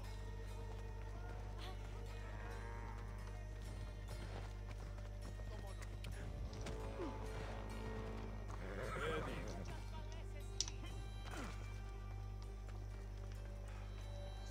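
A horse in the video game Assassin's Creed Odyssey neighs loudly and gallops with rhythmic hoofbeats over game music and a low hum, while a player talks over the action.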